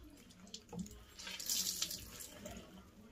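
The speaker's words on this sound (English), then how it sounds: "wash your face with some water, just to dampen your face" Water runs from a tap to dampen a face before applying a cocoa mud mask, a steady splashing rush at close range with brief hand splashes, no talking.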